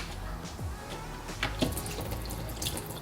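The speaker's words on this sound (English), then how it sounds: "see how all the water leaks out in the bottom" Water runs and trickles out of the bottom drain hole of an ice maker machine, a close, steady splashing flow with a few drips, heard alone.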